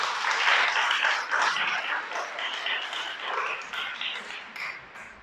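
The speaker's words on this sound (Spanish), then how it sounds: "Dale un aplauso al Creador." Congregation at a Torah teaching gives applause to the Creator, a fairly dense round of clapping that swells early and gradually thins and fades over five seconds, with a few isolated claps near the end.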